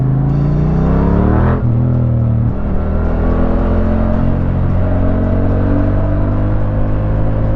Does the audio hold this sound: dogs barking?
no